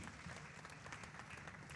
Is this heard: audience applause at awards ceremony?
yes